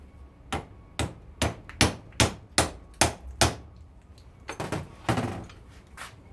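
Hammer blows pound a brass part out of a metal vise, a run of about eight sharp, evenly spaced strikes followed by a few quicker, softer knocks, close and loud with no talking.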